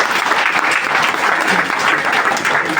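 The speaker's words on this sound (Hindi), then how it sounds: "आप सबके लिए एक बार जोरदार ताली हो जाए।" An audience at a DXN lifestyle seminar claps loudly and continuously, a thick, close roar of many hands with no pauses throughout.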